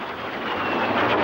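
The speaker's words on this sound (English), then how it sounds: "Here you see the Swedish Air Force Historic Flight's J28, or the de Havilland Vampire, which became the Swedish Air Force's ticket to the modern jet era." A de Havilland Vampire J28 jet of the Swedish Air Force Historic Flight flying at an air show, heard as a steady, loud broadband jet roar that slightly swells over a brief stretch.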